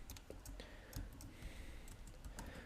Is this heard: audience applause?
no